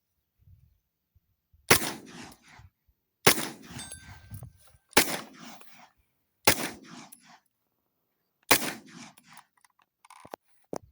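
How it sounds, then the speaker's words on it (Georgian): Five sharp, close 9mm shots from a Grand Power Stribog SP9A2, fired singly at irregular intervals with brief echoes trailing each crack. "ამ იარაღს ვისვრით პირველად"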